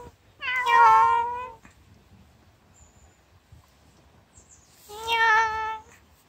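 A cat meows twice, each cry drawn out, with a few seconds of quiet between them.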